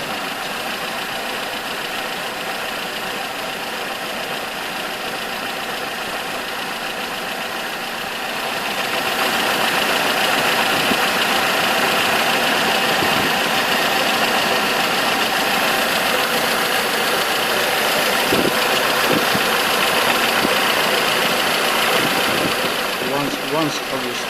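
A 1989 Mercedes 230e engine idles steadily at close range, a continuous even hum with a faint knocking texture that grows slightly louder partway through.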